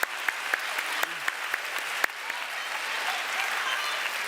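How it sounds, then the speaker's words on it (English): An audience at a debate with Steve Bannon applauds steadily, dense clapping filling the room with a few sharper claps standing out near the start, no talk over it. "can I have a round of applause, please, for this debate to proceed?"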